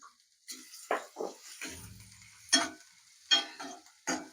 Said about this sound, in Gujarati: તેલ ગરમ થઈ ગયું છે આપણે કાંદા એડ કરી દીધા છે બરાબર એને થોડીક વાર સુધી સતળાવા દઈશું